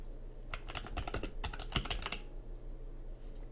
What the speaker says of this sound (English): And type in which song you're looking for.